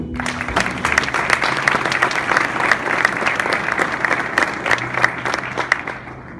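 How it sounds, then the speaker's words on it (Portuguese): A church congregation applauds during an evening evangelical service, a continuous dense patter of many hands with a faint low hum beneath, fading slightly at the end. "Aplauda ao Senhor."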